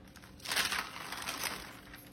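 Wax peeled off paper, a soft crinkling and crackling rustle that swells in the middle and then continues steadily, close up, with no talking.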